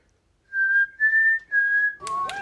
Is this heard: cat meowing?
no